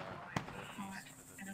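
A single sharp gunshot rings out in the military video game ARMA 2 and fades quickly, with players talking quietly around it.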